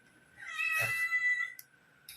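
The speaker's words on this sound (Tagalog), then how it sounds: "Ito ay pusa." A cat gives a single drawn-out meow, faint and close, followed by brief soft rustles.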